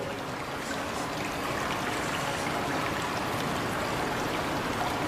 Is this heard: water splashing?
yes